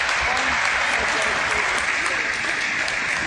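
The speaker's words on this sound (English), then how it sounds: "Appreciative crowd." A crowd at a women's Premier 2 basketball final, Vikings against Dodgers, applauds in a dense, steady wash of clapping that carries on throughout.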